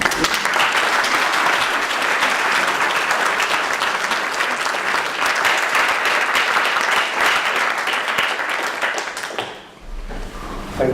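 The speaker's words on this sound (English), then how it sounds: "he deserves a round of applause" Sustained, loud applause from an audience at an artists award ceremony, continuous dense clapping that tapers off near the end.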